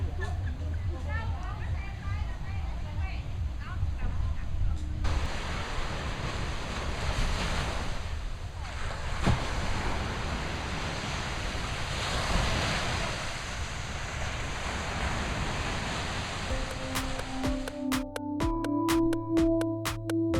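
Ocean waves washing onto a beach near Hoi An, Vietnam, a steady broad surf roar with gusts of wind buffeting the microphone, heard alone for most of the stretch before brief music at the end.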